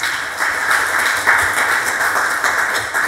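Church congregation applauding during a Sunday sermon, a moderate round of clapping with a few sharper bursts, steady for a few seconds.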